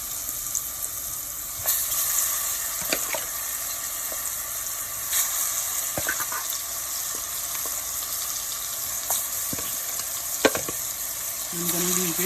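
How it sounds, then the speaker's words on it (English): Goat meat fries in Jamaican curry in a pot with a steady, close sizzle, broken by occasional stirring scrapes and clicks of a utensil against the pot. "I'm gonna leave it for it to fry up"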